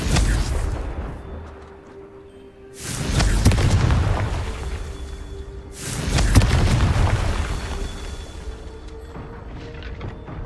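Two heavy fire-spell blasts boom out in Hogwarts Legacy, each a deep rumbling burst that swells and slowly fades, spaced a few seconds apart over a low ambient hum.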